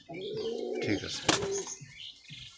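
Domestic pigeons (giribaj) coo softly and close by in a low, throaty warble, with a brief flutter of wings; a voice speaks briefly.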